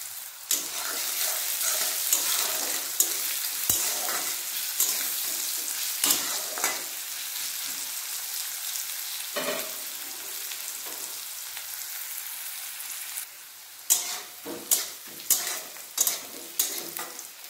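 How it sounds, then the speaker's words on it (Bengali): Onions fry in a pan for lau chingri with a bright, crackling sizzle, punctuated by repeated scrapes and clinks of a spatula stirring, louder bursts of stirring near the end, and no voices. "পেঁয়াজ লাল লাল করে ভেজে নিয়েছি"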